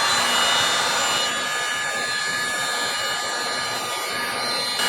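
A DeWalt DCE530 cordless hot air blower runs continuously to shrink heat shrink tubing, a steady close-up whooshing fan roar with a faint motor whine, unbroken throughout.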